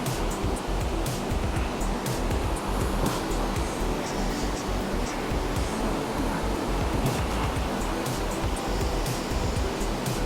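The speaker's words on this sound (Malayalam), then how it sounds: "വലിയ വെള്ളച്ചാട്ടമാണ്, വലിയ." A continuous, loud roar of rushing water from a large waterfall on the Kanchenjunga north base camp trek fills the whole stretch, broad and steady with no pauses, heard up close.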